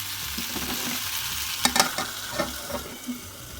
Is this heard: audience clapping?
no